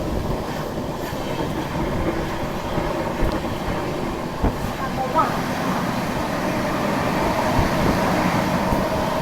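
A CR Rajdhani Express on the Mumbai–Delhi route runs at about 130 km/h through heavy rain and wind near Kasara Ghat, giving a continuous rumbling roar with wheel clatter and a brief squeal, steady and close.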